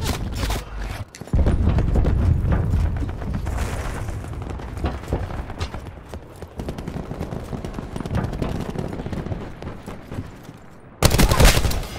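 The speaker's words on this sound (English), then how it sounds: "Cluster grenade." Cluster grenade blasts in a first-person shooter, a loud rumbling run of overlapping explosions and gunfire that rolls on for several seconds, with a sharp final burst near the end.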